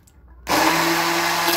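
A blender switches on abruptly after a brief quiet moment and whirs loudly and steadily, whipping ayran into a frothy foam.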